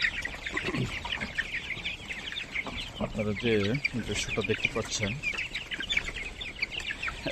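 Flock of 26-day-old tiger chickens clucking and chirping after being let out in the morning, busy overlapping calls with one louder rising squawk, while someone talks over them.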